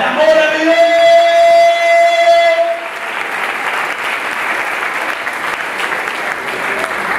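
Loud, close applause from a church congregation during a sermon, starting right away over sustained music and continuing as steady clapping after the music fades.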